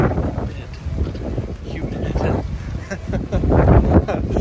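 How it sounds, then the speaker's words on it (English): Wind buffeting the microphone at a resort in Mexico, gusty rumbling bursts that swell louder near the end, with a voice talking under it. "And it's windy actually. It's kind of windy."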